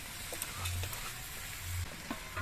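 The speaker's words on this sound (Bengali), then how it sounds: "এবার আস্তে আস্তে সব কিছু দিয়ে নেড়ে চেড়ে মিশিয়ে নিতে হবে চাল আর ডালগুলো সবজির সঙ্গে নেড়ে চেড়ে বেশ ভালো করে" Rice, lentils and winter vegetables being stirred in a frying pan for mixed khichuri, giving a steady close sizzle with soft scraping strokes and a few light clinks throughout, with no voices.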